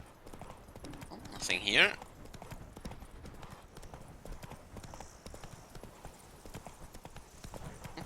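Hooves of Roach, Geralt's horse in The Witcher 3, clip-clop steadily across the game's Toussaint countryside throughout, with a louder whoosh near the start and someone talking over the gallop.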